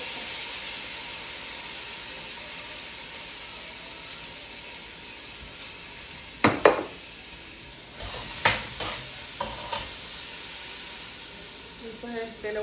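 Steady frying sizzle of washed rice in a pot fills the clip, with a few sharp scraping or stirring clatters partway through, close by.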